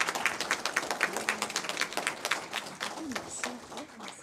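Audience applause at a talk on artificial intelligence and psychiatry, honoring young prize winners: a few seconds of scattered, moderately close clapping that gradually thins out, with faint murmuring underneath.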